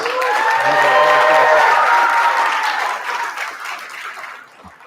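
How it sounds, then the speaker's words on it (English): Audience at an event giving a big round of applause, a loud, full wash of clapping with some cheering that holds steady, then tapers off toward the end. "one big, massive round of applause"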